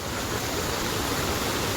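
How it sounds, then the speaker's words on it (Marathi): The Waldhuni river flows past an old temple, a steady, even rush of moving water that holds at the same level throughout, with no voices. "ही वालधुनी नदी आहे आणि बाजूला मंदिर आहे."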